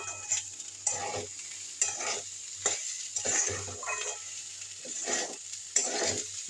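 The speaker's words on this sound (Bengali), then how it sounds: "চালটা যখন ভাজা হয়ে যায় না তখন বুঝতে পারা যায়, একটা ফটফট আওয়াজ হয়।" Rice fries in a pan with a sizzle that runs throughout, broken by repeated scraping stirs at roughly one-second intervals and a few sharp crackling pops, heard up close with no voices.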